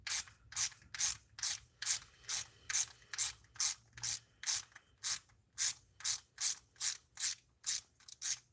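A ratchet wrench clicks in quick regular bursts, about twenty strokes in a row, tightening a bolt on the upper intake manifold of a 1996-2005 Chevy Astro AWD, close and clear with no talk.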